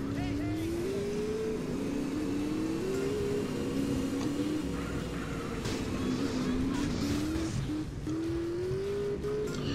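Racing car engine in GTA San Andreas, a steady droning whine that rises and falls with gear changes, loud and continuous throughout, with background game sounds.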